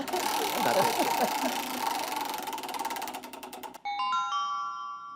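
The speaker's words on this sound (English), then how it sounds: "All right, let's spin the wheel." A prize wheel spins at a quiz show event, its rapid ticking clatter slowing over several seconds before stopping on a bright electronic chime, heard against busy room noise.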